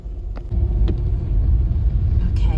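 A car passing on a narrow one-track country road, a low steady rumble that stays close and loud for the whole stretch, with faint brief clicks over it.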